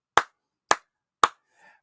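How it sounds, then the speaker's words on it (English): Three slow, deliberate hand claps, evenly spaced about half a second apart, sharp and close, with silence between each and a faint trailing noise after the last. "I just slow clap,"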